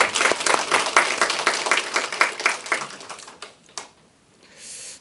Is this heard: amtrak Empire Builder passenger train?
no